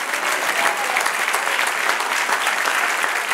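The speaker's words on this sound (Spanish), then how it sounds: "Dale un aplauso al Señor." Steady applause from a church congregation during a Spanish-language sermon, dense, even clapping that holds at a constant level across the whole stretch with no voices rising above it.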